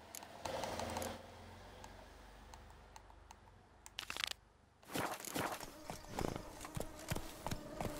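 Hooves clip-clopping from a horse in the video game Witcher 3, a steady run of close, even beats with a short lull midway, set against game ambience and faint clicking.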